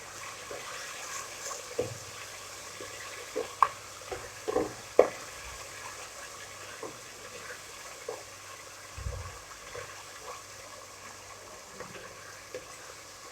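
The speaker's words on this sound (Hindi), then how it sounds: "और 2 मिनट के लिए अच्छी तरह कुक करेंगे ताकि मसाला जात हमारे अच्छी तरह फ्राई हो जाए" Ground coriander and turmeric fry in a pan for kadhi pakora, making a faint low sizzle with scattered clicks and scrapes from stirring, quiet and steady.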